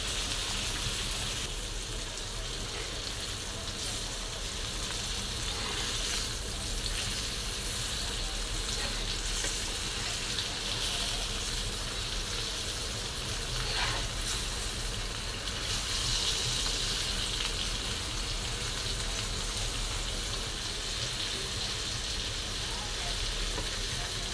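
Fish fries in a pan with a steady, close sizzle and faint crackle, joined by occasional stirring and soft watery sounds from a home kitchen; no one talks.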